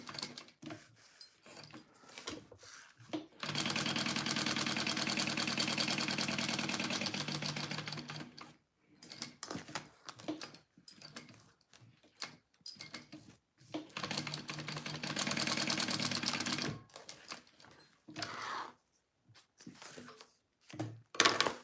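A sewing machine runs in two long, steady bursts, basting a pocket onto a vinyl pouch, with short pauses and quieter handling noises between the runs.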